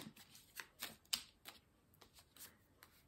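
Cards being drawn one by one from a coaching card deck, a series of soft papery flicks and slides close by, about eight short swipes spread over a few seconds, quiet with no talking.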